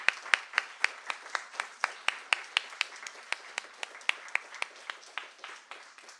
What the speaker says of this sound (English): Let's please give these two a warm round of applause.